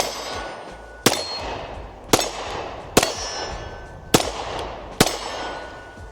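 Five evenly spaced pistol shots ring off steel targets at an outdoor range, each a sharp loud crack followed by a metallic clang, about a second apart, with no talking.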